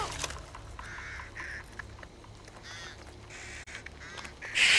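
Honking geese in a video game call in a string of separate nasal honks, fairly close, over a low steady game background, with a louder burst at the very end.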